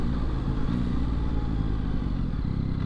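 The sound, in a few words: Yamaha XSR900 motorcycle riding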